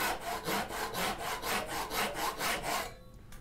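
Hand saw cutting wood for a half lap joint, about nine even back-and-forth rasping strokes in a steady rhythm, close up, stopping just before the end.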